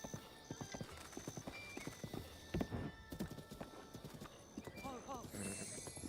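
Horse hooves clip-clopping at a steady trotting rhythm in a Zelda game, close and distinct, with a whinny near the end and a person talking over the sound.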